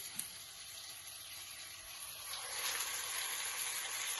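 Curry leaves and fennel fry in hot oil for an egg curry, giving a steady, soft sizzle that swells louder partway through and goes on without talk.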